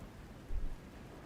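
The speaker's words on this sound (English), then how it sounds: "It's raining harder. I can't hear anything except for the rain." Heavy rain pours in the video game Arknights Endfield, a dense, steady wash of noise with a brief low rumble swelling in the middle, no voices.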